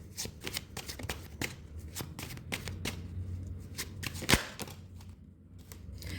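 Tarot cards are shuffled for a pick-a-card reading, a close series of crisp riffles and slaps with a loud snap late on before the shuffling settles.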